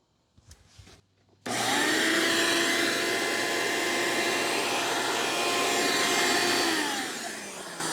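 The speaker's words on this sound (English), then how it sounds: "just use a vacuum cleaner to get that done" A vacuum cleaner switches on abruptly and runs at a loud, steady whine, following a few brief knocks, removing sanding dust from wood.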